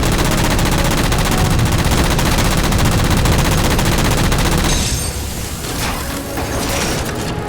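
Sustained rapid automatic gunfire in Halo 4 as jammers are shot down, a loud dense continuous barrage that cuts out near the end, leaving rumbling ambience.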